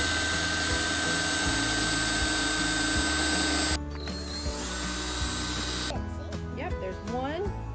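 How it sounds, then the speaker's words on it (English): A power drill bores drainage holes in a plant container, a loud steady whirring motor that cuts off partway, followed by quieter handling noise and people talking. "So we brought the drill out here,"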